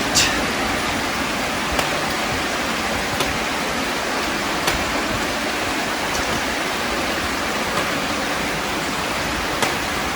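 Water rushes steadily down concrete stones on a hiking trail, a loud, constant broadband roar with a few faint clicks scattered through it and no voices.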